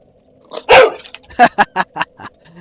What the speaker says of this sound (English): She's got a mean bark.